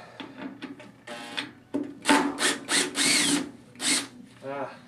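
A power drill backing a screw out of a drywall anchor, several short whirring bursts that rise and stop in stuttering pulses, heard close with no talk.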